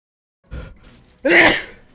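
A single close, loud sneeze: a short intake of breath followed by a sharp, breathy burst lasting about half a second.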